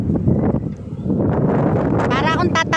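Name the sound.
strong wind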